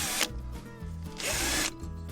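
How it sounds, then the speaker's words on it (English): A battery drill whirs in two short bursts, backing hex Allen key screws out of a Metabo DH330 planer, with a ratcheting mechanical rattle between the runs and no talking. "so I've got my battery drill."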